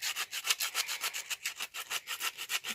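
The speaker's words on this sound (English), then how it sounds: "We're just going to scrub it down a bit" A mountain bike brake pad is scrubbed back and forth on an abrasive surface, a quick rhythmic rasp of about five strokes per second, close and steady with no talking.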